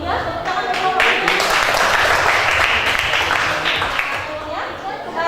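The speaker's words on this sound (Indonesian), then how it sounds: "Tepuk tangan untuk kelompok 3." A classroom applauds a student group after its presentation, steady loud clapping with voices mingling underneath, easing slightly near the end.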